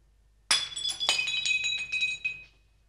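Glasses clink together in a toast, a sharp bright chime at the start followed by several more ringing clinks that fade over a couple of seconds, close and clear with no talking.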